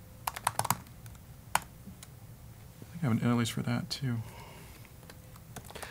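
Typing on a computer keyboard during a Flutter coding session: sharp clustered key clicks at the start and a single tap, then a denser burst of keystrokes under a man's speech, moderately close.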